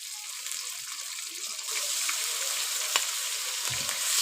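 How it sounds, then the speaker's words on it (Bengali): Garlic paste sizzles steadily in a pan, a dense broadband hiss that grows louder partway through, with a brief scrape or clink near the end and no voices. "রসুনটা একটু ভাজে নিন ভালোভাবে"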